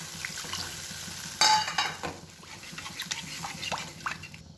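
Water used to wash spices is poured into a hot frying pan of spices for a hilsa and eggplant curry, bursting into a loud hiss that settles into steady sizzling and bubbling up close.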